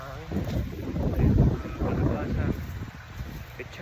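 Strong wind gusting across an open vegetable garden planted with sweet corn, pechay, chili, tomato, bitter gourd and squash, roaring steadily against the microphone in broadband buffeting gusts.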